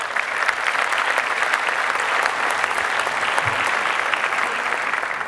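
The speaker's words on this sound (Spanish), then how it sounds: "para quien le solicito un caluroso aplauso" Steady applause from a conference audience at the National Gastroenterology Week in Puebla, a dense wash of clapping that holds at an even, fairly loud level throughout.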